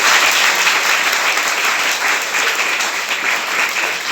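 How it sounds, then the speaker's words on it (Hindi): A church congregation gathered for worship breaks into loud, sustained applause, a dense wash of clapping that holds steady throughout. "आइए हम परमेश्वर की महिमा के लिए एक बार जोरदार ताली बजाएं"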